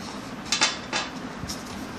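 A metal nut and bolt clink together as they are handled while a telescope is unboxed: a few light, close taps and rattles in quick succession over a quiet background.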